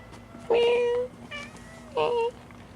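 A fat female cat meows near and loud, two drawn-out calls with a short softer sound between, over quiet background hum.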